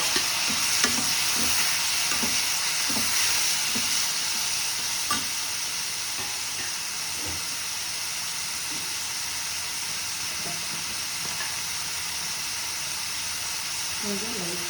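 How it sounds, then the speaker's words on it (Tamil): Tomato goes into a pan of frying eggplant, giving a steady sizzle with the scrape and clatter of stirring throughout, close and continuous, with faint speech in the background. "இப்போ தக்காளி போடுறேன்."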